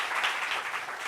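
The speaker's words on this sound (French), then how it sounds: "applaudissements pour la belle Brazinguel" An audience applauds a guest at a French-speaking gathering, with a brief, steady wash of clapping at moderate distance and no voices.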